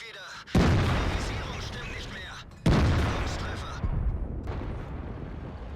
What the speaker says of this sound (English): He managed to put an extra shot there into the 50B